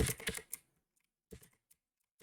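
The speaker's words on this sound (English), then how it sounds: "typing in those numbers 32767 and then hitting load" A few quick clusters of computer keyboard keypresses tap out numbers, close and quiet, separated by short silences.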